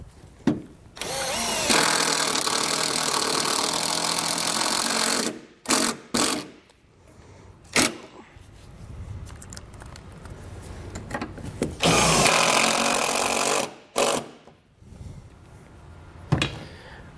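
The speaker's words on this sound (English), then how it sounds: "I'm going to take the provided self-tapping screws and secure it down" A power drill drives the self-tapping screws that hold down a Roadmaster battery charge line kit on a 2013 towed vehicle. Two long, loud whirring runs close by, with short bursts and ratchety clicks between them, and no talk.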